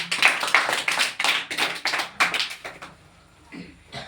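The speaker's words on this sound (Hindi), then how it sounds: "ताली हो जाए।" Classroom of seventh-grade students clapping together in short, uneven bursts, sharp close claps that thin out and stop partway through, followed by a few scattered claps in a quiet room.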